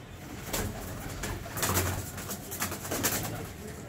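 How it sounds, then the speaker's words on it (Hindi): A pair of kamangar pigeons coos close by, soft throaty calls repeating in irregular bursts over a constant rustling, noisy background with no speech. "ये एक जोड़ा लेके आए फाद भाई, बहुत अच्छा कमंगर कबूतरों का।"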